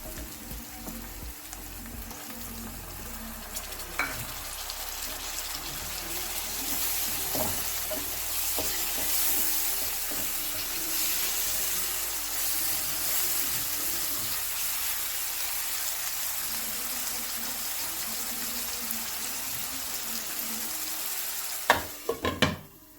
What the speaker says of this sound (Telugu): ఇప్పుడు ఇందులోనే టమాటా ముక్కలు కూడా వేసేసి ఒక 2 మినిట్స్ మూత పెట్టి మగ్గనిచ్చుకోవాలి